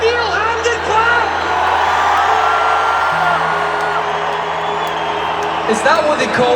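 Huge stadium crowd at a Travis concert in Hampden Park roaring, whooping and cheering continuously, a loud dense wall of voices with scattered yells rising above it.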